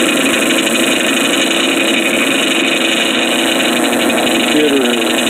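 The engine of a Woodmizer sawmill runs steadily at close range, a loud even drone with a high whine above it. A voice speaks faintly under the noise.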